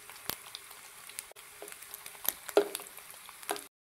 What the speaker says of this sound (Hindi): इस तरीके से आपने इसको फ्राई करना।